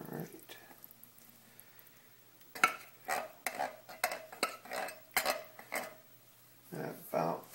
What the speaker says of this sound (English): So now we'll stir this in really well, stir those beans in really well